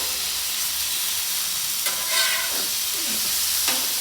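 Steak seasoned with fajita spice, lime juice and olive oil sizzles steadily in a pan, a constant hiss broken by a few brief scraping stirs.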